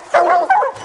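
Hound dogs on a bear hunt let out a loud, close bark that breaks into a yelping, whiny cry, then a second sharp bark, with no talking.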